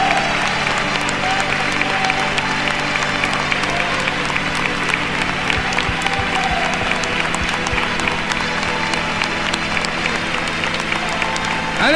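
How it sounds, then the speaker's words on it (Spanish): A church congregation gives sustained, loud applause that fills the room from start to finish, with voices mixed in beneath the clapping. "Por eso le damos un fuerte aplauso al Señor"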